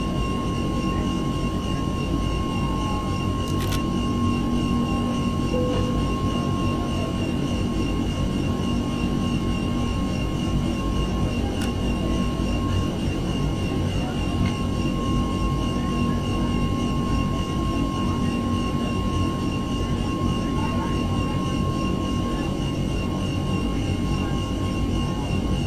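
Airbus A321 jet engines spooling up on a takeoff roll in the X-Plane flight simulator, a steady, broad, loud roar holding level throughout with a faint tonal whine on top and no talking.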